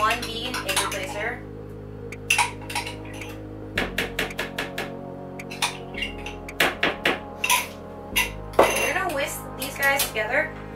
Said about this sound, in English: It's gonna take about 2 minutes to get the wet ingredients blended together.